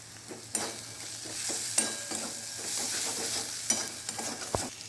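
Gram flour (besan) stirred and fried in a pan for a fish roe gravy, giving a steady soft sizzle with repeated scraping strokes of a spoon; no talking.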